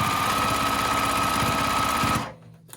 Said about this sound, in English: sewing through the ruffle and everything.